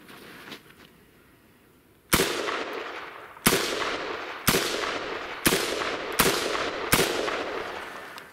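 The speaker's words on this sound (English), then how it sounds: "Firing corrosive ammo, 124 grain." Six loud, sharp rifle shots from a Zastava ZPAP firing corrosive 124-grain remanufactured ammunition outdoors in snow, spaced about a second apart, each with a ringing decaying tail.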